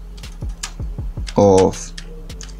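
Rapid keystrokes on a computer keyboard while entering capitalised text in Photoshop, a close run of light clicks with a brief louder burst, heard beneath a speaking voice.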